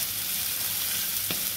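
Chopped onions frying in hot oil in a pan, a loud continuous sizzle close up with a brief stir or clink near the end.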